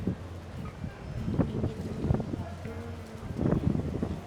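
Wind blows by the sea in Busan, a gusty rumble under a person talking, with a few brief louder bursts along the way.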